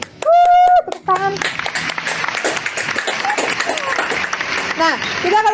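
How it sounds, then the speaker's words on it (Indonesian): A school student audience claps during an orientation session, a brief cheer followed by scattered, lively hand clapping with voices and chatter mixed through it. "Yeay! Tepuk tangan."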